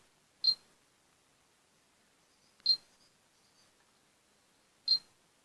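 A new camera gives three faint, sharp electronic clicks or beeps while focusing, evenly spaced about two seconds apart in near silence.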